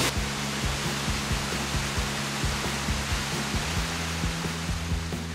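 Upper Mesa Falls in the Tetons, a waterfall 114 feet tall and 201 feet wide, gives a steady, dense roar of rushing water from close by, unbroken for the whole stretch with no voices.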